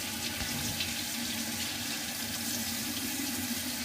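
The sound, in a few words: rinsing a layered vegetable under running tap water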